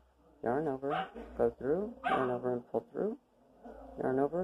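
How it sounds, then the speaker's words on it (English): Dogs bark in the background of a room while someone talks steadily through a crochet lesson, the barks faint and partly buried under her voice. "Sorry about my dogs in the background."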